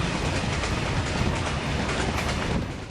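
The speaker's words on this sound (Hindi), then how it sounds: "हुगली नदी से करीब 32 मीटर नीचे इस समय हम मौजूद हैं और कोलकाता मेट्रो में सफर कर रहे हैं।" A Kolkata underwater metro train runs about 32 metres beneath the Hooghly River, heard from inside the carriage as a steady loud roar with rhythmic wheel clatter that eases slightly at the end.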